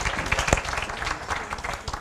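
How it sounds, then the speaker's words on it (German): Audience applause fills a panel discussion hall, a steady wash of many hands clapping throughout without a break. "Applaus, herzlichen Dank."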